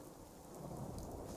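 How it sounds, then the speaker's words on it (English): Steady rain with a low rumble of thunder in the video game Fallout 4, a soft continuous wash that swells slightly partway through, with no voices. "It's gonna rain."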